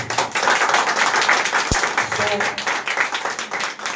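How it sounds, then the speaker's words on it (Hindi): Loud clapping from a congregation at a Sunday holy communion service, a dense, rhythmic patter of many hands throughout, with a brief thud and some voices mixed in. "ये जोर से ताली बजाएं प्रभु की महिमा"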